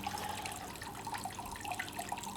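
A plugged-in garden water feature ringed by hostas runs steadily, a soft, continuous trickle and splash of flowing water heard close up and fairly quiet, alone without talk.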